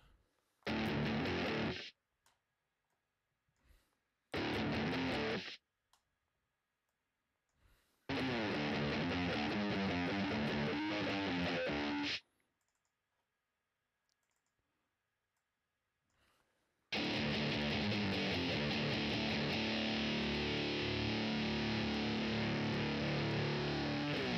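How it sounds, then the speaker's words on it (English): Electric guitar played through a GarageBand Candy Fuzz 70s-style rock distortion amp simulation, heard as three loud distorted bursts with silent gaps between them, the last one a long sustained chord. "Candy Fuzz. Rock. 70s style distortion."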